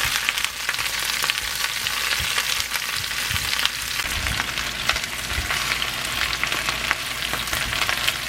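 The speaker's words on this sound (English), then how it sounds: "you see all the onion start to cook and all the herb" Onion, herbs and oxtail with kaffir lime leaf, galangal and lemongrass cook in a pot for Laotian oxtail stew, giving a steady close frying sizzle with occasional stirring clicks and no talk.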